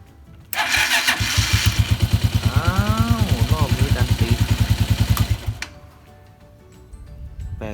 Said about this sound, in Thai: เดี๋ยวเสียบกุญแจก่อน สตาร์ทดูก่อน